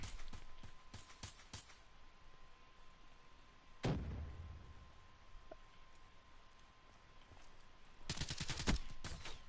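Black Ops 3 multiplayer gunfire, quick volleys of sharp rapid shots in bursts at the start, a single heavy blast in the middle and a dense automatic spray near the end, fairly faint amid quiet game ambience.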